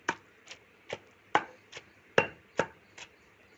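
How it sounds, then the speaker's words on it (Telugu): Green chillies and onions pounded together, about eight sharp, evenly spaced thuds over a few seconds, close and distinct against a quiet background. "ఇప్పుడు ఈ పచ్చిమిరపకాయలు ఈ ఉల్లిపాయలు తొక్కుని రెండింటిని కలిపేయాలన్నమాట."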